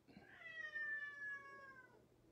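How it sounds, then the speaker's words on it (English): A house cat lets out a single drawn-out, rising-then-falling meow, asking to be fed, heard alone and fairly close in a quiet room. "Apparently my cat feels like it's time to be fed"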